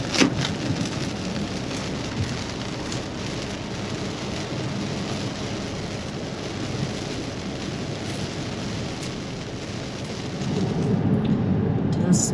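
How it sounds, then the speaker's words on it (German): Rain falling steadily on a coastal road near Çanakkale, a dense even hiss of drops with faint rumbles underneath, growing heavier toward the end. "Da ist es jetzt, der Regen"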